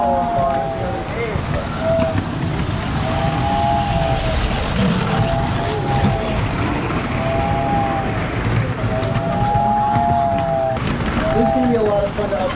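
A 1946 American Flyer S gauge model train runs at full throttle, a steady rolling rumble with a recurring high whine rising and falling, continuous throughout and partly under nearby talk.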